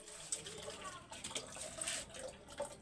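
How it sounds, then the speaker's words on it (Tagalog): Thin, steady trickle of water running from a tap into a container, faint and close, with a soft voice murmuring underneath. "Nag-iipon na ako ng mga tubig pampaligo sa mga aso guys"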